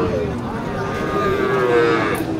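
A red cow, likely a Sahiwal, moos at a busy cattle market, one long, loud, drawn-out low call held for over two seconds over steady crowd noise.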